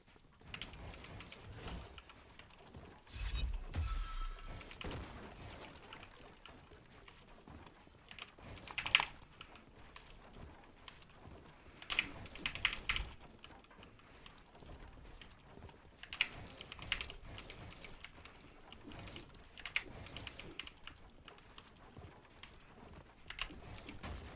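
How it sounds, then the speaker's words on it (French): Steady computer keyboard typing with clicky keystrokes and occasional louder bursts, close by and alone, no voices. "je vous laisse écouter un peu le bruit du clavier"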